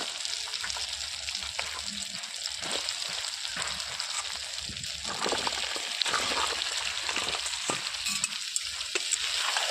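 Chopped pumpkin, potato, beans and peas sizzle and hiss in hot oil with fried spices in a wok, while a spoon stirs steadily for a pumpkin and fish-head ghonto. The steady, close frying crackle carries faint splashy liquid sounds.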